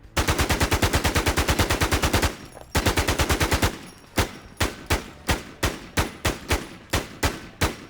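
Sig Sauer 556 rifle fire in the online shooter Infestation: two rapid, evenly spaced automatic bursts, then a string of slower, separate loud shots, all close and clean with no talk.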